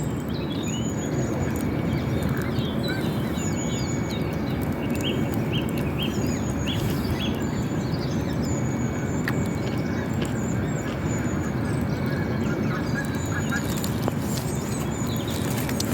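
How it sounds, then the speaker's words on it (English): Waterbirds including swans, ducks, coots, moorhens and geese call intermittently at a distance over a steady background hum, with short chirps and honks scattered through the stretch. "swans and ducks and coots and moorhens and the kittiwakes and geese."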